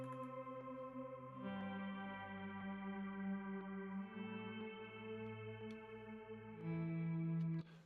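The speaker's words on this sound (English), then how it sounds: "Contemporary Drama Toolkit gave some guitar sounds like this." Guitar from the Contemporary Drama Toolkit library picks out a repeating melody, heavily processed with chorus, echo and reverb over sustained tonal layers, steady and close throughout.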